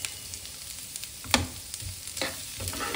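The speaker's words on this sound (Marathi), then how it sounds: "आणि आता हे आपण छान परतणार. गॅस आता थोडा मोठा करायचा आहे." Boiled, finely chopped potatoes are stir-fried with chilies and coriander in a pan over a raised flame, sizzling steadily up close with scraping stirs of a spoon and no talking.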